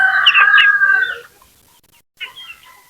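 Chickens clucking on a poultry range, with a loud, close hen or rooster call lasting about a second, a short pause, then quieter clucks; no talking.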